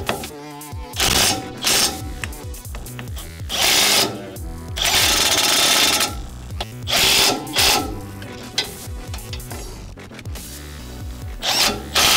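A 12V cordless impact wrench rattles in several loud, close bursts of hammering while tractor tines are being swapped, with short pauses and clanking of metal parts between runs.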